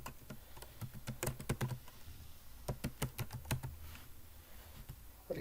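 Clicky bursts of typing on a computer keyboard while entering a channel name in a Canva thumbnail text box, close and fairly quiet, with uneven clusters of keystrokes separated by short pauses.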